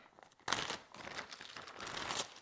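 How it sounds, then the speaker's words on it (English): Quiet crinkling and crackling of double-sided tape being handled for sewing a bag, close and soft, with brief rustles after a sudden onset and no talk. "I think what I'm gonna do is grab double-sided tape."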